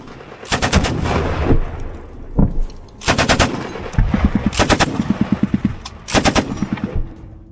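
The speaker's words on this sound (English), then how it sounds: "During the clip, the Ukrainian soldier uses a variety of weapons and grenades while fighting in the trench." Close, loud gunfire from small arms in trench combat near Bakhmut, Ukraine. Bursts of rapid automatic fire alternate with single sharp shots and brief pauses, with no talking.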